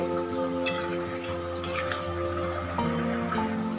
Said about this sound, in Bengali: এতে আমি দিয়ে দেবো হাফ চা চামচ গরম মশলার গুঁড়ো দিয়ে একবার ভালো করে মিশিয়ে